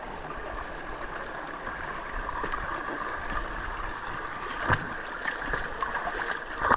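Feet wade through clear, shallow water in the Doblarec stream canyon in Slovenia, with a constant rushing wash of the current and a few nearer splashes that stand out from it.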